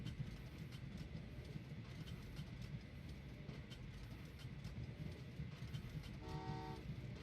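A train in the Train Valley 2 game rumbling along steadily, with a short horn toot near the end, no voices.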